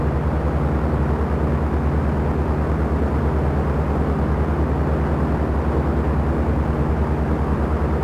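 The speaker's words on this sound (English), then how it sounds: "Very nice takeoff." Propeller airplane engine droning at steady takeoff power in the Dovetail Flight School flight simulator game, a loud continuous hum with a strong low tone held throughout without pause.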